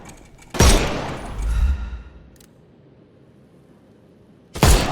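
Gunshots from the Sherlock Holmes: Chapter One video game: two sharp, loud reports roughly four seconds apart, the first trailing off in a long rumbling decay with a faint metallic clank in between.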